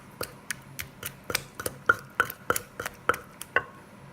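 Som tam being mixed with tomatoes added, a steady run of sharp wooden knocks and taps, roughly a few per second, close and moderately loud with a faint clatter of utensils behind.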